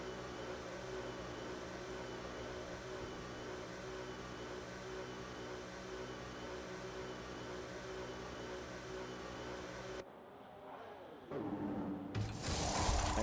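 Racing car engine from a racing video game drones steadily through the pit lane at a Madrid Grand Prix, then cuts abruptly near ten seconds and returns louder with a rising high whine as the car rejoins.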